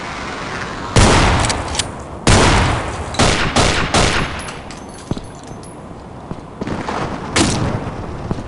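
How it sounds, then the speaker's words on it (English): Gunfire in the horror video game Afraid of Monsters, with loud sharp bursts of shots in several clusters, some rapid and overlapping, separated by brief quieter gaps with no speech. "Why did I shoot there?"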